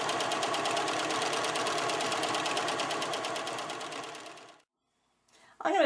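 A sewing machine stitching a patch onto denim jeans runs in a fast, steady mechanical chatter for several seconds, then stops abruptly, followed by silence and a brief voice.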